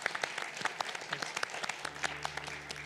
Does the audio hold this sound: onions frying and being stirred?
no